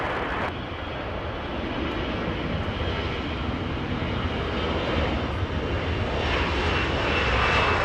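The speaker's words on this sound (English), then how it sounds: "And now it's cleared for takeoff. That one heading to San Francisco." An airliner departing Los Angeles International Airport for San Francisco produces a loud, sustained engine roar that builds slightly over several seconds, with no voices in the foreground.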